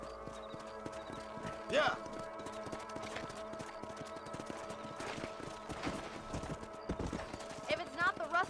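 Horse hooves clip-clop and gallop under a rider in the Wild West video game Red Dead Redemption, with whinnies, rhythmic hoofbeats and a music bed; a voice speaks briefly.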